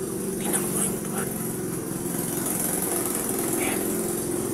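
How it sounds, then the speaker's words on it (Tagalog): A small motorcycle engine drones steadily nearby outside a family house, giving a continuous buzzing hum at moderate volume, with faint background sounds and brief indistinct voices. "So, may dumating na motor, no."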